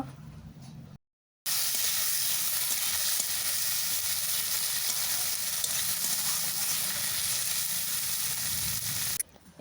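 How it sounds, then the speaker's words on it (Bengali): Chopped onion and tomato frying in a pan while being stirred, a loud, close, continuous sizzle with scraping stir sounds that starts after a brief silence and runs nearly unbroken, with no voices. "পেঁয়াজ আর টমেটো কুচি ভালোভাবে নাড়াচাড়া করে ভেজে নেব"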